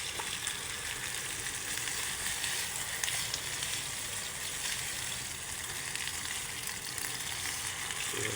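Meat fries barbecue style in hot oil with a steady, close, dense sizzle and crackle that holds at an even level throughout, with no one speaking.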